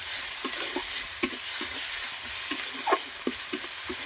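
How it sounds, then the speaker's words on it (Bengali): Spices with turmeric and green chilies are stir-fried in a pan, a soft sizzle under repeated rhythmic scraping and clinking of a spatula, close and fairly quiet. "ভালো করে মশলাটা কষিয়ে নেব।"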